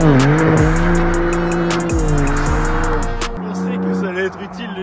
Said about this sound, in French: il a fait patiner la voiture sur tout le départ